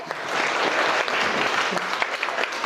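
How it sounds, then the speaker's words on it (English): Sustained applause from a crowd, dense clapping continuing steadily throughout at moderate volume. "let's keep the round of applause going once again for Bertram,"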